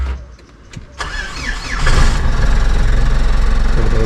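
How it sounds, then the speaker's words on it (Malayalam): A Mahindra Scorpio turbo diesel engine cranks and catches after a second of near silence, then settles into a loud, steady idle rumble close by. "എഞ്ചിൻ സൗണ്ട് ഇതാണ്."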